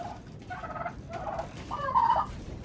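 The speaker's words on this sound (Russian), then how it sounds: "Обожают индюки яблоки." Turkeys being fed apples gobble in several short, warbling bursts at moderate distance, the last call the loudest, over faint background noise.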